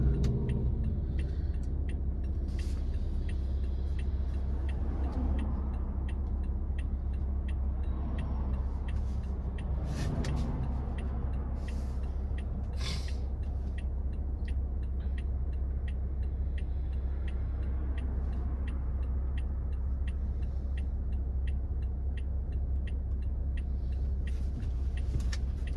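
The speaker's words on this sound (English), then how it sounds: "look at all this traffic" Road traffic on S Dixie Highway in Kendall, Florida heard from inside a car, a constant low engine and road rumble with passing swells and faint ticking, no talk.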